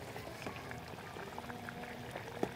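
Thick gravy simmering in a pan for stuffed tomatoes, a quiet steady bubbling with soft pops and one sharper blip near the end, heard alone.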